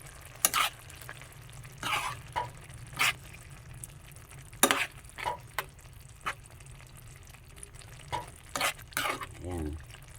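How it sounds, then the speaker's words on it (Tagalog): Bitter gourd leaves and sardines stirred in a pan: a quiet sizzle underneath, regular scraping strokes of a spatula against the pan, near and fairly soft, no speech. "Ayan, haluin natin."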